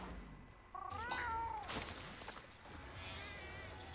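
A Palico cat companion from Monster Hunter World: Iceborne meows a few times in quick succession, with rising and falling cries, fairly close and clear over game music and ambience.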